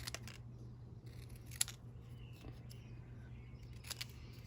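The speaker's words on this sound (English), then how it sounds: "I'll trim this up." Scissors snip around a paper taco cutout for a handmade birthday card, a few quiet, brief cuts close by in a hushed room.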